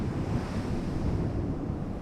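Ocean waves under rainy weather in the naval game Ultimate Admiral: Dreadnoughts, a continuous broadband surf and wind wash, moderately loud and steady, no voices.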